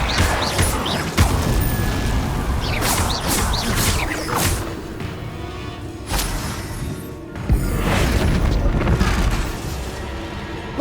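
Bombarda explosion spell cast in the video game Hogwarts Legacy, with loud booming blasts and crashing debris over busy game effects, several bursts across the clip, no talking.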